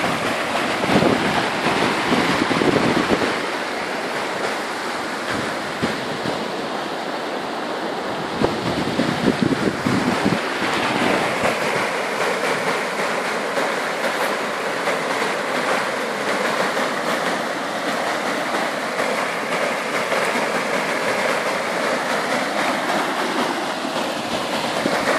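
Steady broadband rush of a creek flooded after rain, loud and continuous throughout with wind buffeting the microphone near the start.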